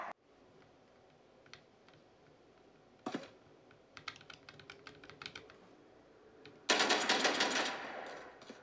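Keyboard keys pressed while playing Valorant on an Asus ROG Ally, a soft run of scattered clicks and taps that grows into a loud, dense burst of rapid typing near the end.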